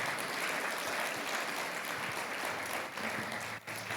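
Sustained applause from a church congregation during a Spanish-language sermon, a steady dense wash of clapping filling the room for several seconds without a break.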